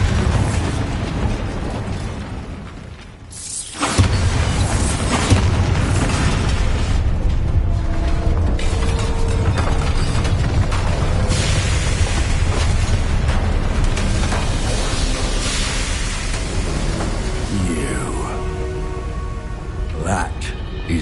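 Bombarda spell explosions in Hogwarts Legacy on PS5, a booming blast after a brief lull, followed by sustained rumbling destruction and clattering debris under game music and effects, loud and close.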